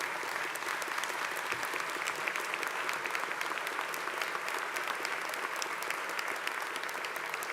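A large audience at a University of Texas at Austin presidential inauguration applauds elected officials, sustained dense clapping filling the hall at an even level without letup.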